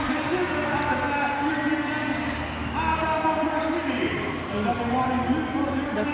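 A large arena crowd at a judo European Championship in Montpellier roars continuously as a big fighter walks onto the mat, a dense wall of cheering and shouting with a commentator's voice running over it.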